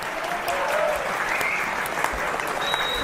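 Audience applause at a political congress, a loud, continuous burst of clapping from a large crowd filling the whole moment, with scattered sharper claps standing out.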